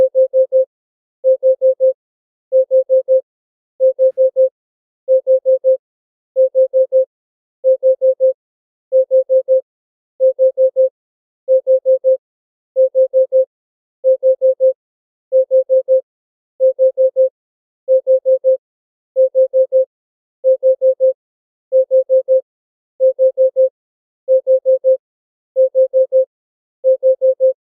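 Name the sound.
repeating Bitcoin price alert sound from a computer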